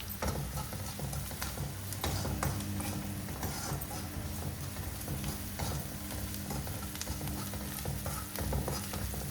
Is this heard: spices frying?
yes